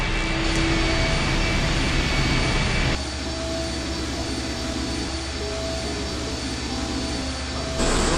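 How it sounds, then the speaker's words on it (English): An engine starting up in the horror adventure game I Have No Mouth, and I Must Scream, a loud, dense jet-like roar that drops to a steadier, lower rumble partway through and swells again at the end, with no voices. "The engine's starting up again."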